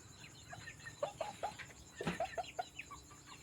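A four-month-old young chicken gives soft, repeated clucks at an uneven rhythm over a quiet outdoor background, with one louder squawk midway.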